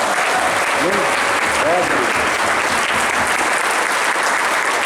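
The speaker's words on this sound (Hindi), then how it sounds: "मैं चाहता हूं परमपिता परमेश्वर के लिए एक शानदार जबरदस्त ताली होने चाहिए" Sustained audience applause fills the space at a gathering, dense and steady throughout, with faint voices and a brief tonal vocal sound rising through the clapping near the start.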